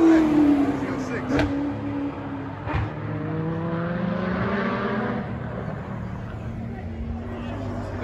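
A Toyota Supra drift car at a Formula Drift event, engine note sweeping down then droning steadily at mid distance, with a sharp crack near the start and people talking nearby.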